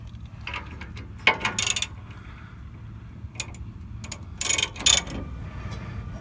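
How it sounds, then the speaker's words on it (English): A wrench turns a bolt while a Roadmaster Active Suspension is fitted to a 2020–2022 Silverado/Sierra. Brief bursts of metallic clicking and ratcheting come in a few separate groups close by, over a quiet background. "So I'll give it a few turns with the wrench here"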